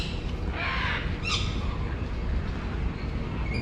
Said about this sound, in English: A couple of parrots here as well.